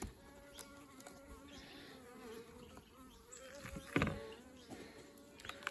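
Honeybees around a mini mating nuc hive in a backyard apiary: faint, close buzzing that drones on with shifting pitch as individual bees fly past, plus a louder pass near the middle.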